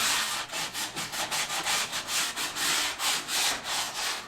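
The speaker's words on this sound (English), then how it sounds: "120 grit, pretty handy grit. It's right there in the middle. And you're just going to go over the edges" Wood edges hand-sanded with 120 grit sandpaper for a sound panel, a close, rhythmic series of about fifteen quick back-and-forth rasping strokes.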